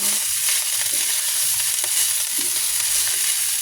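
Fried rice sizzles and crackles steadily in a pan for a Filipino breakfast, a close, continuous frying hiss with occasional stirring scrapes.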